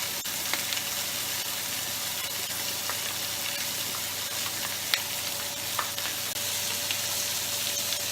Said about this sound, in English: I'm going to turn that down and I'm going to let that simmer for about 15 minutes.